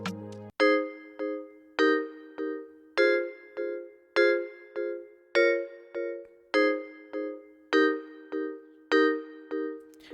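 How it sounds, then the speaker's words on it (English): A digital bell preset, Diggy Vibe 3, from the Purity plugin plays a steady sequence of about fifteen bright, chiming notes, each with a sharp strike and short ringing decay, clean and alone. "So you go to Purity, then bells and peg, and it's diggy vibe 3, right?"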